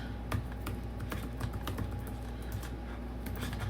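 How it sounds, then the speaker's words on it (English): Quick keystrokes on a computer keyboard tap out a short search in an irregular patter, close and fairly soft, over a steady low background hum with no voices. "Let me type in foundation balm and see if it comes up."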